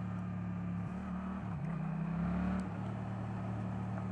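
A Yamaha MT-07 motorcycle fitted with an Akrapovic exhaust with the baffle removed idles with a steady, deep, throbbing note. It gives a short blip of revs in the middle, loud and close, with no talking.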